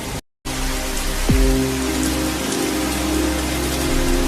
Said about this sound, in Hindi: तभी तेज तूफान, आंधी और बारिश शुरू हो गई।